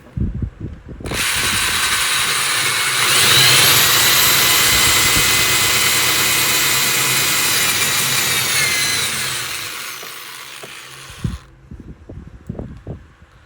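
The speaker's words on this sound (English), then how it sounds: "I'm using my big handheld drill here, and we're going to attempt to drill this down some more." A big handheld power drill bores into pine guitar wood, a loud, close, sustained high whine lasting about ten seconds, rising slightly as it bites, then cutting off into faint handling clatter.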